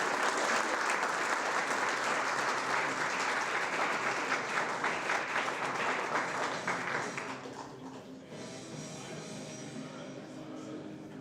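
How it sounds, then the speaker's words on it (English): A school audience applauds loudly at a State of the School presentation, steady dense clapping that thins and drops in level toward the end. "Let's give them a round of applause."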